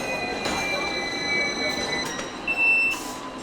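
Rumbling Hong Kong tram noise with occasional high metallic squeals from the wheels, steady and fairly close, with faint voices in the background.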